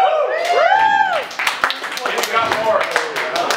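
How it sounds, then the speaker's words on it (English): Crowd at a small live punk show clapping and cheering for the show's organizer, scattered close claps mixed with whoops and shouts, loud and busy with voices all the way through. "Big round of applause to Christian for putting on the show."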